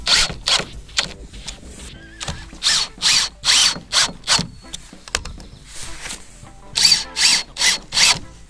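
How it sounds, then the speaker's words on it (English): A power drill whirs in repeated short bursts, stopping and starting in an uneven rhythm as it bites into wood, close and loud. "Got the drill."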